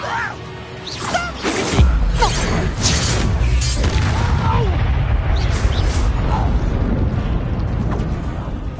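A Confringo blasting spell goes off in Hogwarts Legacy with a loud crash and boom, followed by a sustained rumbling blast that fills the clip.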